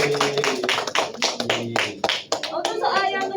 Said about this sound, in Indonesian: Tepuk tangan dong buat Mbak Suli